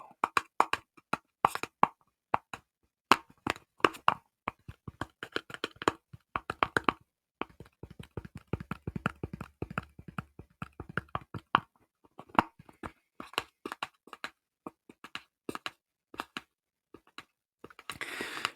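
Fingers tapping on a teeny tiny box, a long run of quick, crisp taps and clicks in irregular clusters, close-miked and soft in a quiet room, with no talking.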